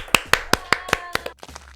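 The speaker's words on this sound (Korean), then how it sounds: "여기서 박수." A few people in a studio audience clap, about seven sharp, distinct claps in a quick irregular rhythm that thins out and stops, close and fairly loud with no talk over them.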